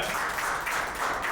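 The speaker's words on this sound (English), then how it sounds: "But let's clap it up for Congresswoman Yvette Clarke." An audience applauds for Congresswoman Yvette Clarke during a podcast taping, a brief even patter of clapping from a modest crowd with no voices over it.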